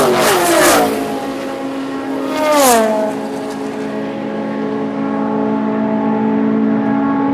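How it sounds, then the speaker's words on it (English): Porsche sports car at a Daytona race, its engine revving up and sweeping past loudly with rising and falling pitch, then settling into a sustained steady drone. "That's a Porsche."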